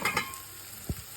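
Finely chopped ginger frying in a pan for palak paneer sizzles faintly, with two quick stir scrapes at the start and a soft thump near the end.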